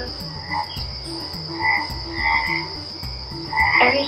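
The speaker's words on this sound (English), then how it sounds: "Can you hear the crickets?" Crickets on a morning at the Lohagarh Fort Resort keep up a constant high, thin drone, while louder frogs croak in repeated bursts in the foreground.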